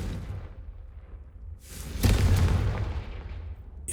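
The Confringo blasting spell goes off in the Hogwarts Legacy video game with a single sudden booming explosion and whoosh, fairly loud, its rumble lingering and fading over a second or so.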